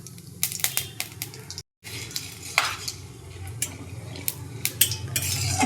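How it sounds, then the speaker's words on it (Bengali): Whole cumin, a dried red chilli and whole garam masala are dropped into hot oil in a home kitchen. Close utensil clinks and scrapes sound over a low continuous sizzle, with one brief dropout. "তেলটা গরম হয়ে গেছে এবার দিয়ে দেবো গোটা জিরে আর একটা শুকনো লঙ্কা আর দিয়ে দেবো গোটা গরম মশলা"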